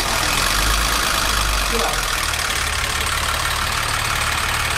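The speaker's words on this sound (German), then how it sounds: "Er fängt sich im Standgas perfekt, haben wir super eingestellt" A vintage car engine idles steadily and close by, a continuous low rumble, with a brief voice over it.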